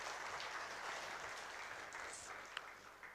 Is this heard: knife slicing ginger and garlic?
no